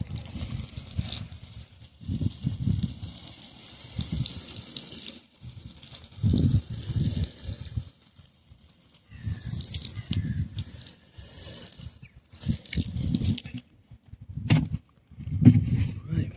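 Water splashing from a watering can or hose onto plants in an allotment bed, coming in repeated bursts with short pauses between them, with some light handling noises.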